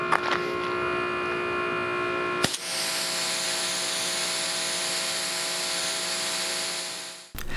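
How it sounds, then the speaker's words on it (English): A Ryobi 2,300 PSI pressure washer with a 40-degree nozzle hums at idle, then bursts into a loud, steady, close spray hiss over the engine drone, cutting off abruptly near the end. "So let's try the Ryobi with that same 40-degree nozzle."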